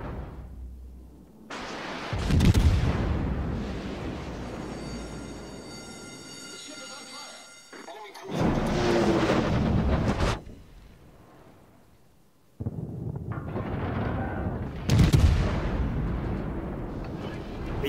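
Heavy naval gun salvos from the cruiser Buffalo boom in World of Warships, in three deep blasts that rumble and fade, with someone talking between them.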